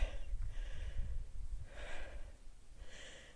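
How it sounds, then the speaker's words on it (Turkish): Heavy, labored breathing from someone out of breath after climbing a mountain on a nature hike, with three loud breathy gasps standing out over low wind rumble. "Bu arada nefes nefese kaldım."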